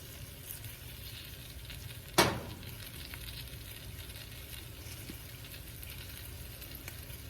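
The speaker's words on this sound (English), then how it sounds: "And let them fry and heat up." Food sizzles steadily in a frying pan on a home kitchen stove, a constant close crackle throughout, with one brief sharp clatter of a utensil early on.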